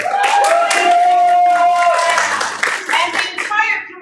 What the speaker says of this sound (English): Give Austin a round of applause.